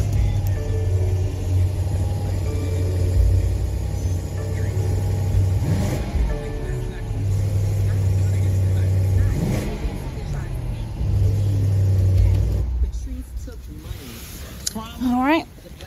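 A BMW M850 in triple black cranks and settles into a steady, deep idle with a couple of light revs, the engine rumble loud and continuous throughout.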